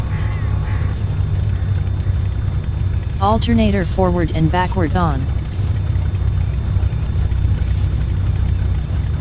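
Twin aircraft engines drone in a flight simulator game after start-up, a steady low hum filling the whole stretch while a voice speaks briefly in the middle.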